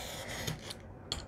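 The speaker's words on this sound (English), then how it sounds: "You can use scissors to cut these." Scissors snip through thin paper while trimming small notebooks for a junk journal page, giving a few soft, quiet cuts and rasping rubs at close range, with no voices.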